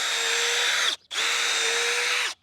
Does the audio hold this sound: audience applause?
no